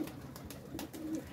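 A Teddy breed pigeon cooing softly, a few low, fairly faint coos in quick succession over a quiet background.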